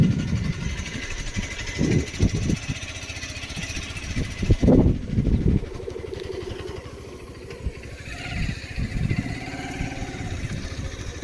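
A motorbike engine idling and revving near a river bridge, with a steady chug punctuated by louder bursts and bumps of handling noise.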